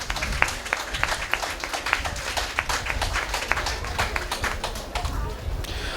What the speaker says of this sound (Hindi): तो ज़ोरदार तालियों से स्वागत कीजिए आप सभी कलाकारों का।